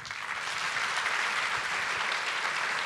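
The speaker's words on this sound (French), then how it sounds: "Merci de les applaudir" Steady, dense applause from an audience at the closing night of a short-film festival, filling the whole stretch evenly without pause.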